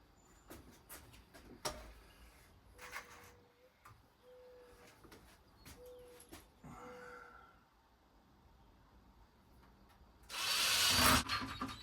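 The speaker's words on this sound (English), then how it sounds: "One of these is a drill." A power drill whirs in several short bursts while pantry shelves are installed, then runs in one louder, longer burst near the end, with scattered knocks and handling sounds in between.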